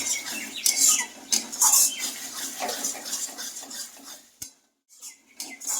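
A spoon stirs sour yogurt into thick egg curry gravy in a pan, making quick wet scraping and clinking strokes against the metal, close and fairly loud, with a short pause near the end.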